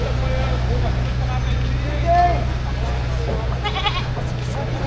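Goats bleat at a busy livestock market in Padre Garcia, Batangas, where cattle, goats and carabao are sold, a few short calls rising over steady crowd chatter and a low engine hum.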